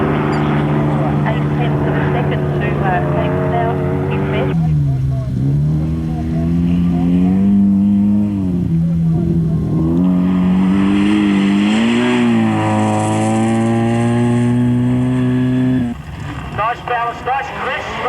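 A hillclimb race car engine at Collingrove, South Australia, revs hard and climbs through the gears, a loud, crisp rising whine with brief dips between shifts, fading slightly at the end.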